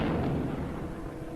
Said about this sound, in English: First torpedo should be hitting about now.